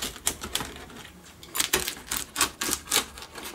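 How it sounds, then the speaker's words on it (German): A pizza roller slices through a crisp, freshly baked tarte flambée topped with mushrooms and tomato, giving a series of close, sharp crunching crackles in irregular bursts with no talking. "Ich werde ihn wieder mit meinem Pizzaroller hier schneiden."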